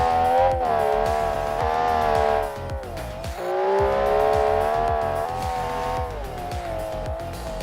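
A race car engine in a racing video game revs very high and steady with a tonal whine, dipping briefly mid-way then climbing again, loud and continuous with no voices.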